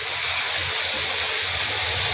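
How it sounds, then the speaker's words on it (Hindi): Chicken karahi frying in a pan after vinegar has been added, giving a steady, dense sizzle and hiss that holds evenly throughout without pause. "ये सिरका डाल दिया है हमने और अब इसको मैं फ्राई कर रही हूँ।"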